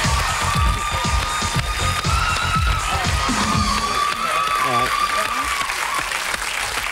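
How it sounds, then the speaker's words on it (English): A studio audience on a 1990 television dating show bursts into loud, sustained applause with cheering and shouts, a dense wash of clapping that carries on for several seconds. "give him a big cheer, please"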